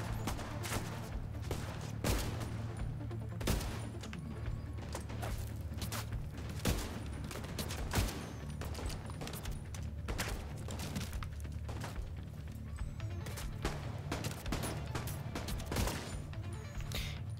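Rapid bursts of gunfire from a binary-trigger gun in Division 2 crack out in quick irregular pairs and clusters, loud and sharp over a low game rumble, continuing throughout.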